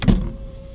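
The electric sunroof of a 2017 Subaru Legacy Limited 2.5 AT makes a brief motor whir with a soft mechanical thunk at the start, close-up inside the cabin, lasting under a second.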